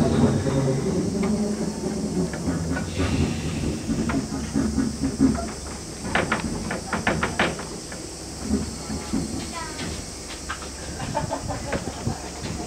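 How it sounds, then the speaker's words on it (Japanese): A tourist train rumbles along at a railway park, with clanking and hissing broken by scattered sharp knocks, while people talk faintly in the background as the train reverses direction. "列車折り返しいたします。"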